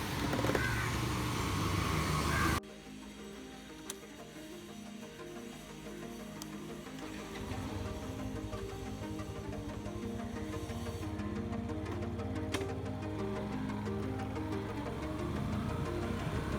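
Yamaha FZ-S 150 v3.0 150cc motorcycle out on a ride, its engine droning steadily with harmonic hum and shifting pitch after a brief louder opening, sustained and fairly close throughout.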